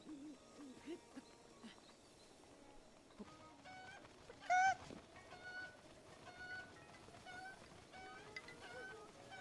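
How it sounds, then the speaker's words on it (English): A cucco chicken clucks in the video game Zelda Breath of the Wild, one short loud squawk midway over a soft ambient outdoor backdrop with scattered quiet calls. "There's a chicken."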